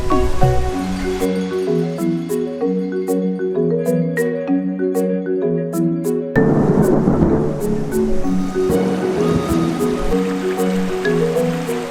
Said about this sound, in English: that storm is whipping in